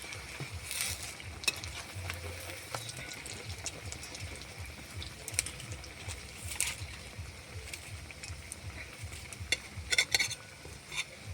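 Onion-and-garlic-free potato chops puffing up as they fry in oil, a low bubbling sizzle with occasional sharp crackles and stirring clinks, fairly quiet and steady, no talk.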